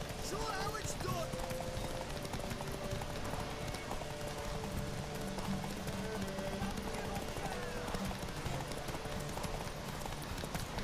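Horse hooves clip-clop in a steady galloping rhythm within The Witcher 3 video game, with game dialogue and a commentator talking over the running horse throughout.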